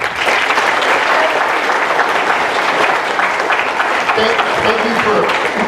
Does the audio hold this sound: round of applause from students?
yes